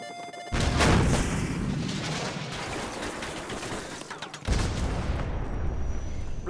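A Stinger missile fired at a flare-popping helicopter in Call of Duty: Modern Warfare Remastered, with a loud booming launch that swells into a sustained roar of blasts and gunfire, then a second heavy burst near the end.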